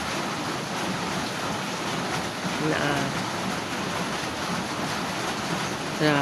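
Steady rain hisses continuously, mixed with rushing water, a broad even wash of noise throughout.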